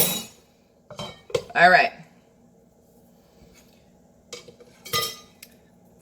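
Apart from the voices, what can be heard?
spoon stirring coffee in a cup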